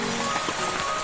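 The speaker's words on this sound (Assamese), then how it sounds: "চাব পাৰে, বৰষুণৰ পানী" Rain falls steadily near a flooded home in Guwahati, a dense, even hiss of drops with no pauses.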